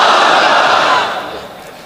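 A large crowd at a Bangla Islamic sermon gathering shouts the takbir chant in unison, a loud, dense roar of many voices that swells at once and then fades over a couple of seconds.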